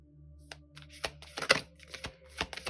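Tarot cards shuffled by hand, a quiet close sequence of soft riffling flicks and slaps in irregular bursts over a faint low hum.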